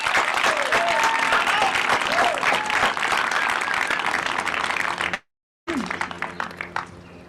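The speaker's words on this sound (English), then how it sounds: "Let's give our class a round of applause." A crowd applauds a graduating class at an in-person college commencement with dense, sustained clapping, loud and near. The applause cuts out briefly, then returns as scattered claps that thin out.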